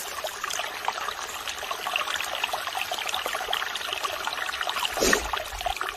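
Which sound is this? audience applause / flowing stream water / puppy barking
flowing stream water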